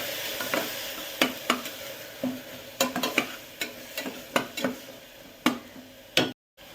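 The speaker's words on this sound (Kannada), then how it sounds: "ಈಗ ರುಬ್ಬಿಟ್ಕೊಂಡಿರೋ ಮಸಾಲಾನ ಹಾಕಿಬಿಟ್ಟು ಮಿಕ್ಸ್ ಮಾಡಿ ಫ್ರೈ ಮಾಡಿ" Ground masala being mixed and fried with onion and tomato for egg biryani, a low sizzle punctuated by sharp, irregular clicks and taps of a spoon against the pan, close and fairly loud, ending in a short silence.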